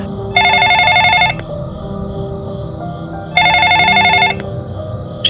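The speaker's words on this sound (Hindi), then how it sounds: "अचानक उसका फोन बज उठा।" A telephone rings in two loud bursts of electronic trilling, each lasting about a second, with a gap between them over a low background hum.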